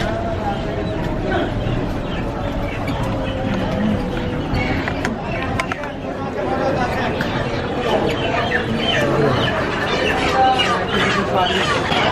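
Chickens cluck and squawk against a busy background of crowd chatter and market bustle at a fresh produce market in Naogaon, with the birds fairly close.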